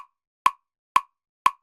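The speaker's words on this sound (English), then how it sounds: "And 120 beats per minute sounds like this." A beat at 120 beats per minute, heard as short percussive clicks half a second apart, four in quick succession, each crisp and close with silence between.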